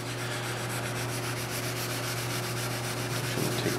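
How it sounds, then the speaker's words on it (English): Steady rhythmic rubbing of 1500-grit wet sandpaper lightly sanding a black car's paint, close and continuous, with a constant low hum underneath. "So we got 1500 here wet. Just going to go over it real lightly here."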